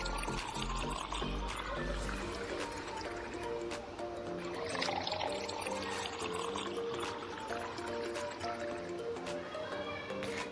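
Cut potatoes and brinjals get rinsed in water in a kitchen, a continuous close splashing and sloshing with faint clinks of the pieces moving, steady throughout.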